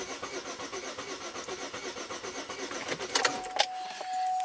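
A Buick engine is cranked with the pedal to the floor, a steady rhythmic starter churn running for about three seconds, followed by a couple of sharper clanks and a fading whine as the cranking stops.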